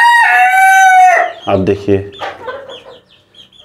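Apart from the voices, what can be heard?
chickens and rooster crowing and clucking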